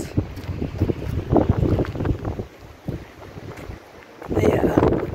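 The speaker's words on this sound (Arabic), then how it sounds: "حق الريح ما تسمعونيش" Wind gusts at Marina Bay in Tangier buffet the microphone in uneven rumbling bursts, easing briefly in the middle before blowing hard again near the end.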